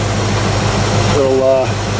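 A Chevy K20 truck's V8 350 small block engine idles smoothly with a steady low rumble, joined briefly by a faint higher tonal whine near the end.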